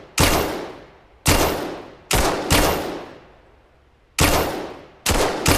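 Handgun shots in the Vail VR game, six sharp loud reports at irregular spacing, each followed by a long decaying echo tail, some shots coming in quick pairs.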